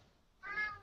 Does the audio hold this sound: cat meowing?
yes